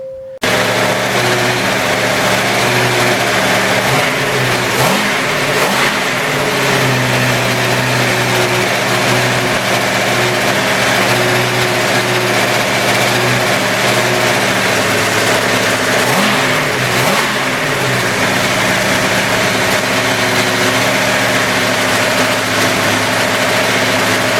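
A junkyard V8 engine on a test run idles loudly and close by, a steady rumble with slight rises and wavers in engine speed throughout and no talking.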